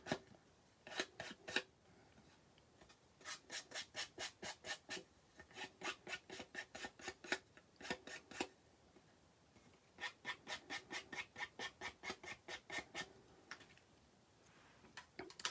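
Quick bursts of rubbing strokes as direct-to-paper ink is dabbed along the edges of paper ornament tags, the rhythmic scraping coming in several runs with brief pauses between, close and fairly quiet, no talking.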